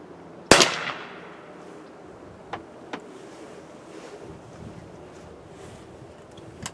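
A single .22 cartridge fires from a 16 gauge drilling outdoors, one sharp, loud crack with a brief decaying tail, followed by faint mechanical clicks and wind noise.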